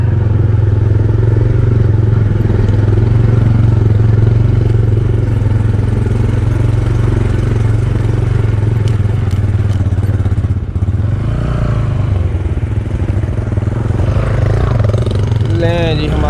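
An engine motorcycle climbing a rocky forest track on a Skardu mountain tour, its steady engine drone loud and continuous throughout, with clatter from the stony ground as it pulls uphill and away.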